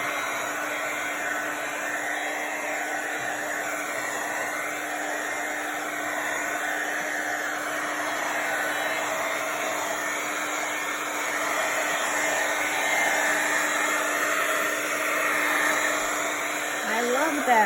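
A heat-drying tool blows steadily over a junk journal page, a continuous loud whoosh lasting throughout with no pauses, heard alone without talk.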